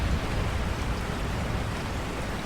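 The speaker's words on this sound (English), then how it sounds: "as the heavens opened in a torrential downpour, he sought desperately for shelter" Heavy torrential rain pours down in a steady, dense wash of noise that runs unbroken throughout, loud and close with no voices.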